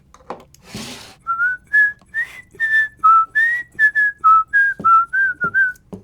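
A person whistles a bright, clear melody of about a dozen short notes into a Movo X1 Mini microphone, close and fairly loud, after a brief burst of noise at the start.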